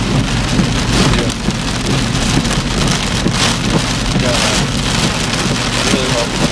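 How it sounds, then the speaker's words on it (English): Heavy rain pours steadily during a severe July thunderstorm in Cambridge City, Indiana, a dense, loud, constant hiss of drops on surfaces with low rumbling underneath and no pauses throughout. "This is much needed rain. Much needed."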